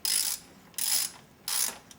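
A ratchet wrench tightening a 10 millimetre valve cover bolt on a 2000 Mitsubishi Galant SOHC 4G64 engine, three close rasping clicking strokes separated by brief pauses, no talk.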